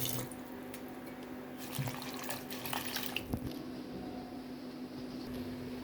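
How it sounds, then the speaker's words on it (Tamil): Red ponnanganni spinach greens being washed in water, with steady running and splashing water and a few drips throughout, fairly close and with no talking. "கீரையை நல்லா வாஷ் பண்ணி எடுத்துக்கலாம்"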